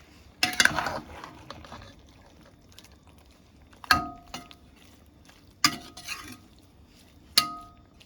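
Spoon knocks and scrapes sound sharply against a cooking pot as spinach is stirred into rice and split peas, four spaced clanks with soft wet stirring between.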